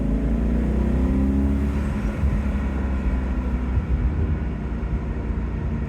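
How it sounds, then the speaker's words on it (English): BMW Z8 engine revving loudly and close by on a road, a deep roaring drone that swells and rises in pitch, then eases slightly as it settles. "What a great engine sound."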